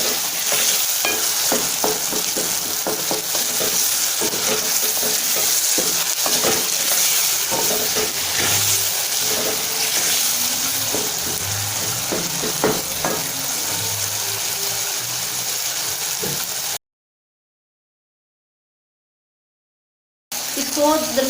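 Cumin seeds being stirred in a frying pan, a steady sizzle with scraping and clinking of the spoon running close and continuous, then briefly cut to silence before resuming.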